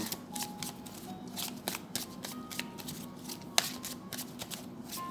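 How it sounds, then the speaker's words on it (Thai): Tarot cards being shuffled and drawn during a reading, a continuous close papery riffle and slide of cards with soft flicks and one sharp snap, heard alone without talk. "ขอไพ่แนะนำให้กับราศีตุลด้วยนะคะ"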